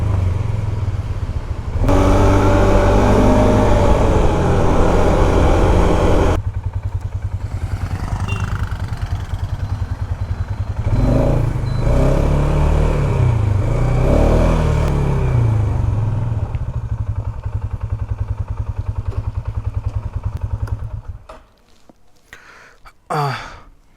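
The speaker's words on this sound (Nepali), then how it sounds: "सो ल गाइस, पोलारिस चलाइरहेको छु है." A Polaris Sportsman 570 quad bike being ridden, its engine droning steadily for most of the stretch with shifts in pitch before dropping away near the end.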